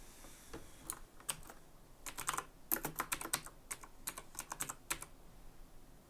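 Someone types on a computer keyboard during a coding session, with quiet bursts of rapid keystrokes separated by short pauses, close but faint.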